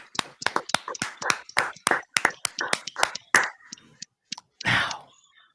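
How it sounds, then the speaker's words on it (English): Audience members clap for a performer named Andy with a run of sharp, distinct hand claps, fairly steady at first and then thinning to a few scattered claps, with a brief murmur near the end. "Come on, clap. Clap. Everybody clap for Andy."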